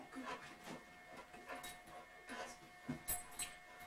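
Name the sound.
dog whimpering during veterinary manipulation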